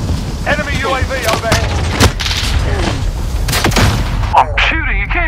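Rapid gunfire and booming shots in a Call of Duty: Modern Warfare multiplayer match, loud bursts and single cracks layered over a busy game mix, with a player shouting over the action.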